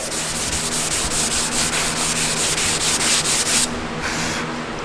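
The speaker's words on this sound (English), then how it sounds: "And see, I'm sanding it away." Steady, continuous rasping of sandpaper scrubbing back and forth over a Nissan 240SX body panel before primer, close and loud, with a rhythmic stroke pattern and no talking.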